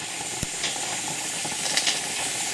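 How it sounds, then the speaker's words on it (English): Pressure canner running at 10 pounds of pressure with cooked venison inside, giving a steady close hiss of steam with a few brief rattling jiggles of the weight. "That's how long we're going to jiggle this canning pot at 10 pounds of pressure."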